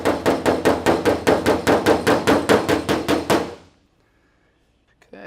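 High spots on a car body panel tapped down during glue-tab pull repair, heard as a rapid, steady series of about fourteen close, loud metallic hammer taps that stop abruptly.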